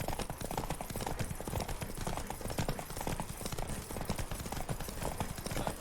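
Geralt's horse Roach trots in The Witcher 3, hooves clip-clopping in a steady, close, continuous rhythm over dirt and stone with no talk.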